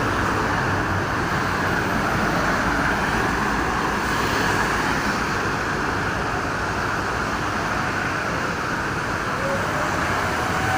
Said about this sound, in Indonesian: Ini sangat ramai sekali ya truk yang mau ke arah Jakarta nih sore kali ini.